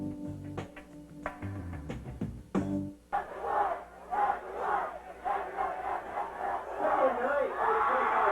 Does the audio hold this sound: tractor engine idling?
no